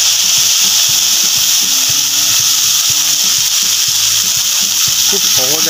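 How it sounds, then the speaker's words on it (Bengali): Gima greens and a dried chilli frying in a little oil make a loud, continuous sizzle and crackle, with a watery hiss and occasional clatter running underneath. "ওই তেলের মধ্যে গিমে শাকগুলো আমি দিয়ে দেবো।"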